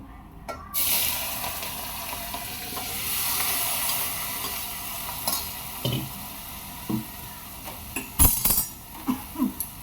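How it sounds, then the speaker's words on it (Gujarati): Steady frying sizzle of cumin and ginger-garlic paste tempering in hot oil, with stirring and a few sharp utensil clinks toward the end. "આપણે વઘાર મારી દઈએ."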